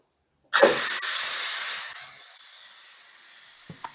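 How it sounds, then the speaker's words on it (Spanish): Steam bursts loudly from the pressure release valve of a Ninja Foodi pressure cooker after cooking beans, a steady forceful hiss starting abruptly and easing slightly toward the end, with a faint click near the close. "sacamos la presión forzando la válvula"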